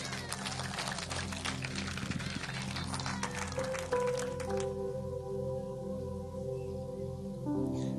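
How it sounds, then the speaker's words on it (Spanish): A church congregation claps loudly during worship for about four seconds, then the applause stops and sustained music tones carry on alone. "Con fuerte aplauso a Cristo Jesús"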